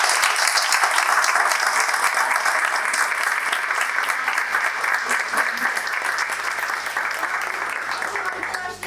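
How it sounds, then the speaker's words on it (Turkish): Sustained, dense applause from a crowd, steady and loud throughout, tapering slightly toward the end. "Onları alkışlıyoruz."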